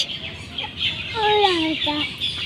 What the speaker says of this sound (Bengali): হাঁস এটা হাঁস